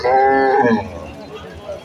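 A single long, low moo from a Friesian cow at a cattle market fills the first second, loud and close, then fades into faint background noise with distant murmuring.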